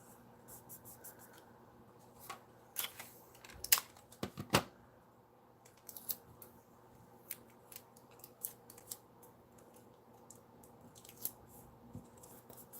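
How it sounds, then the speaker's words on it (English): Scotch tape pulled from the roll and pressed onto paper to join two pieces, giving soft crackly strips and rubbing with a few sharper clicks, quiet and close, with no talking. "I'm going to bring in some Scotch tape and I'm going to join these two together like so."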